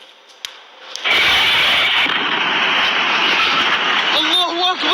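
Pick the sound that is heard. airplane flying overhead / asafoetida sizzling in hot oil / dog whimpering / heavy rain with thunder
airplane flying overhead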